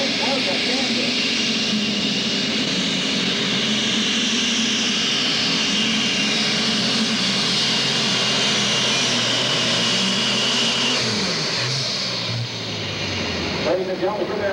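Super stock pulling tractor running three big turbochargers at a state fair pull, a loud sustained roaring whine that holds steady then drops off near the end, with a voice talking over it.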